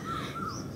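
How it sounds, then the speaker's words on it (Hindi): A koel calling in open air after a storm, two short rising-and-falling whistled notes at moderate distance over a soft windy background. "देखिए कोयल भी बोल रही है"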